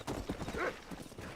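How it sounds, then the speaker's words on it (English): Horse hooves clip-clopping in the video game Red Dead Redemption, a brief quick run of soft hoof beats at moderate distance, lasting just over a second. "o cavalo passa muito batido"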